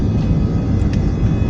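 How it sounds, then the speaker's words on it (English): Loud, steady roar of a small passenger plane's engines during takeoff, heard from inside the cabin as a dense, continuous rumble with no voices. "I'm recording takeoff"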